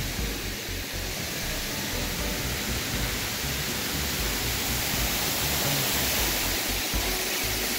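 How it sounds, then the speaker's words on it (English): Steady, dense rush of falling water from a wall-of-water fountain at the Park MGM hotel and casino, loud and constant throughout, pouring down nearby, with no voices. "And here's the wall of water here."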